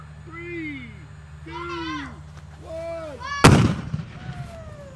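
A homemade cannon fires one sudden, loud outdoor boom with a short rumbling tail, following several seconds of voices and chirpy calls.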